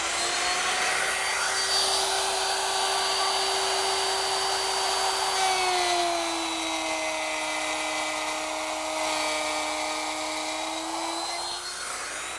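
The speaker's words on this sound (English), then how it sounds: "I've got a 1/2 inch bit in here, and I'll guide it against my T-square to make a cut." A router fitted with a half-inch bit whines steadily while cutting a groove guided along a T-square, loud and close, its pitch dipping slightly partway through the cut.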